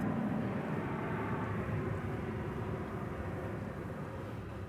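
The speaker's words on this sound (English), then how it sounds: "And I hear another plane roaring off" An American Airlines Boeing 737-800 roars off on takeoff at DFW Airport at night, a steady broad jet rumble that slowly fades as it departs.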